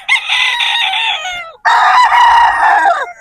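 A rooster, a 3/4 Sweater and 1/4 Boston gamefowl broodstag, crows loudly and close by, giving two long calls in a row with a short gap between them and no talk over them.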